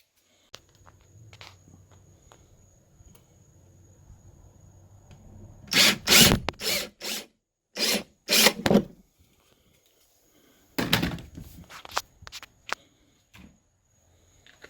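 A power drill drives self-tapping screws through a plastic bin into a PVC frame on a bike trailer: several short, loud bursts of whirring come in quick succession, then a pause and another cluster, with faint handling noises between.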